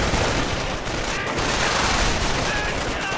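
Continuous loud machine gun fire at a bunker in a strategy video game, a dense unbroken rattle of rapid shots filling the whole moment with a harsh, noisy texture.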